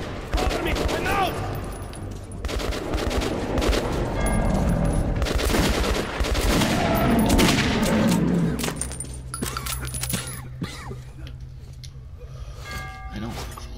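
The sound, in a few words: gunfire in video game Metro 2033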